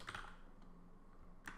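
A handful of soft, scattered keystrokes on a computer keyboard, faint and close, with quiet gaps between presses and no talking.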